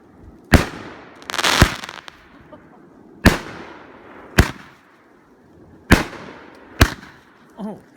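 Fireworks burst near a lakeside cabin: six loud, close explosive bangs in an irregular sequence, some with crackling tails, with a brief voice at the end.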